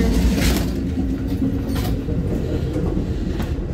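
Inside an Amtrak City of New Orleans sleeper train under way, a steady low rumble of the moving cars with occasional rattles and clicks from the track, heard close and continuous.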